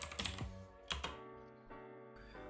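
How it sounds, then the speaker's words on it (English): A command being typed on a computer keyboard, a quick burst of close, crisp key clicks followed by a few more spaced taps in an otherwise quiet room. "type plotmanager in the command bar"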